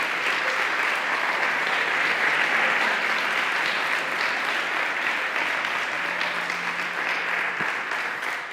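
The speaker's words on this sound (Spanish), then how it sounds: "Le damos un aplauso a Él." Congregation applause during an evening church service, a dense, sustained wash of many hands clapping, steady and loud across the whole stretch.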